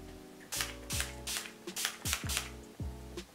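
A bottle of makeup setting spray is shaken hard, giving a run of about seven sharp rattling bursts in an uneven rhythm, close and fairly loud, with no talking.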